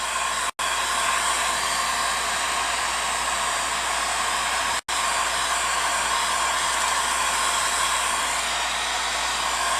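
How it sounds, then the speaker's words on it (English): Steady, loud rush of hot air from a heat gun, broadband and continuous with two brief cutoffs where it stops for an instant. "If you don't want to turn these black, just hold the heat gun up higher."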